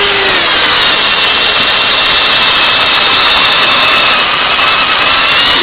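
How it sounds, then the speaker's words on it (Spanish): A power drill bores into a tree trunk to pull out a core of the wood inside, giving a loud, continuous high-pitched whine that holds steady for several seconds, close up and with no talking. "extraeremos con una broca el interior del leño"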